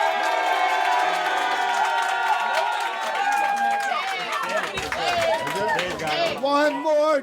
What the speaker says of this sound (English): If you think Patrick Schroeder won this battle, clap your hands